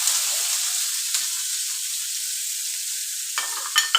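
Chopped onion frying in hot oil, producing a loud, steady hiss of sizzling with a few brief stirring scrapes near the end, and no voices.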